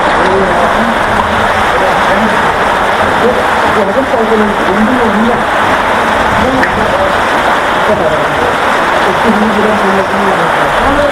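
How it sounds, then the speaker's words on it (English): Continuous heavy rain pours down on the Mardi Himal trek in the Nepal Himalayas, a loud, steady hiss that fills the whole stretch without pause. "Still continuous raining"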